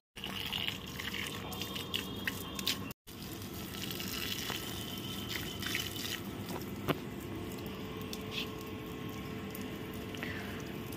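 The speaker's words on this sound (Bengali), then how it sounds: "জবা গাছের পাতাগুলোতে জল দিয়ে এতগুলো গাছ, সব কটার টবে আর পাতায় সবেতেই জল দিতে হবে" Potted hibiscus plants are watered on a rooftop at dusk, with faint trickling and scattered drips and splashes onto leaves and soil over a steady background hiss, briefly cut off near the start.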